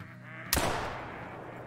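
Sudden broadband burst that fades over a second with a faint honking, quack-like tone underneath, near and fairly loud, from a duck hunt in the Call of the Wild hunting game; no talking.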